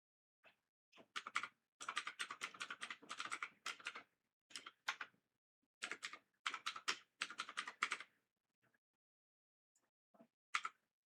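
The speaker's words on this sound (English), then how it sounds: "I'm typing it here" Someone types in bursts on a computer keyboard, with crisp, close key clicks in separated runs, a few lone taps, and silent gaps between.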